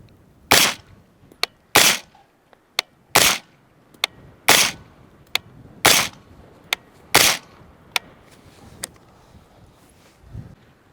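Six loud suppressed rifle shots from a SiCo Velos RC3 suppressor mounted on a Daniel Defense 16-inch rifle, evenly spaced sharp reports with fainter clicks and rattles between them, recorded nearby outdoors.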